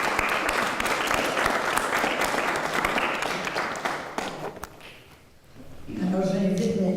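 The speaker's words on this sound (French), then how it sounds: "On peut les applaudir" Congregation clapping during a baptism service in a church, honoring the godparents; a dense burst of applause that thins out and fades, followed by quieter room sound and a sustained tone.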